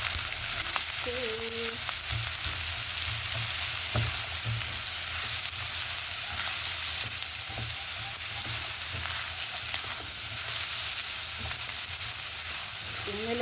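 Sponge gourd (patola) with sotanghon sautés in a pan, giving a steady close sizzle with occasional stirring; a voice briefly speaks once.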